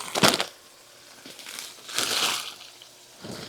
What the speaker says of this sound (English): Let's see if I can get a pair of scissors here to open this up.